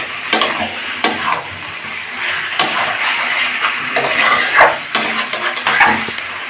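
Chicken skin curry is stirred in a sizzling pan in Bengali style. A spoon scrapes repeatedly against the metal over a steady, loud frying hiss, and a few sharper clanks come at irregular moments.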